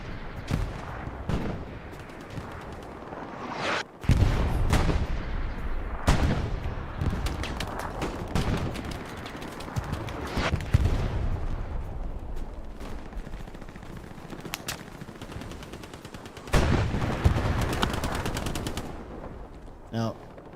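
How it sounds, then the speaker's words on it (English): Machine gun fire rattles in Hell Let Loose during a competitive match on the El Alamein map, with repeated loud bursts and sharp shots in rapid, uneven clusters and dense battle noise in between. "unless the snipers or the tanks can do something about these MGs, Bloody Nine's day is done."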